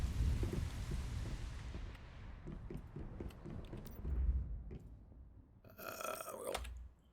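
Steady rain falls in the survival game Once Human, a dense broadband hiss at moderate level with low rumbling underneath, followed near the end by a brief bright electronic burst.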